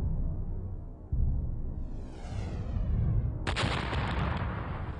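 Documentary effect of a giant meteorite striking and exploding where the Gulf of Mexico will form: a heavy rumbling boom, then a rising whoosh and a second bright, crackling blast that fades into a long roar.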